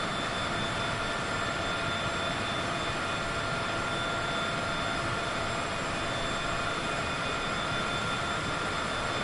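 Private jet engine in Microsoft Flight Simulator 2024: a continuous, steady jet whine and roar with a high tonal hum, constant in loudness and heard alone without talk.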